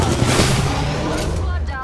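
Loud, sustained video game gunfire fills a tense firefight, with dense rapid shots blurring into a continuous roar that trails off slightly toward the end.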